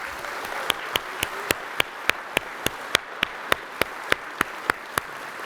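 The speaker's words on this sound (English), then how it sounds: "How about a round of applause for all of our veterans in the audience?" Steady, evenly spaced hand claps ring out at a slow even rhythm for about five seconds as an audience at a conference opening session salutes military veterans; no voices are heard.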